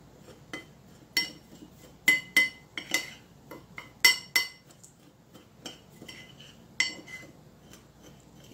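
A utensil clinks and taps sharply against a bowl in irregular bursts while homemade Accent seasoning with green mango powder is mixed, the metallic knocks close and bright over near silence.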